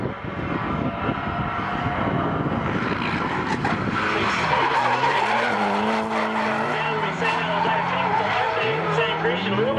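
Drift cars at a competition squeal and skid with loud, sustained tire screeching and roaring engines, the pitch sliding and wavering as they pass through the pace zone, under commentary.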